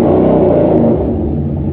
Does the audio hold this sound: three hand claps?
no